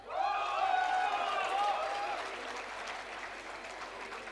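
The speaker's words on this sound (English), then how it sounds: "Keep the applause flowing." An audience at an MBA convocation ceremony in Mumbai applauds steadily, a dense wash of clapping that starts strong and slowly fades over several seconds, with a sustained voice-like tone blended in at the start.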